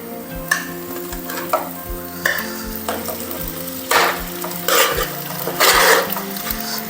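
Masala fries in ghee in a pan with a steady sizzle while a spoon stirs and scrapes, knocking the pan in a loose rhythm of louder bursts for a street-food style dish, with no talking.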